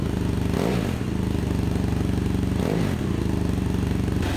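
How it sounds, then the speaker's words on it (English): A BMW 800 GS adventure motorcycle idles with a steady, close exhaust rumble, then blips the throttle twice in short revs about two seconds apart. "Okay, give me a bit of exhaust noise."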